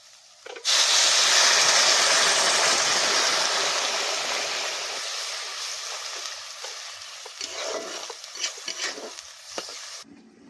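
Water poured into a hot pan of fried chili, turmeric and cumin bursts into a loud, rushing hiss that slowly settles into a softer bubbling sizzle, followed by a few close stirring scrapes.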